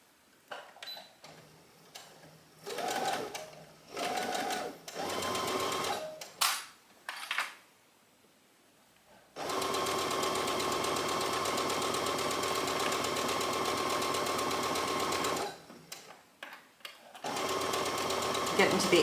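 Domestic sewing machine stitching the top line of a knit top, encasing a strap between bodice and lining: a long steady run of fast motor whir, then another run after a pause, with short bursts and speech-like gaps earlier.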